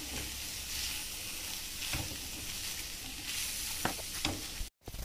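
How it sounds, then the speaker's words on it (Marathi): Crumbled soybean mince with onion and tomato being stirred in a pan, producing a continuous hissing sizzle with a few sharp scrapes toward the end and a brief dropout, moderately quiet and close, no speech. "चांगला आपण आता मिक्स करून घेऊया।"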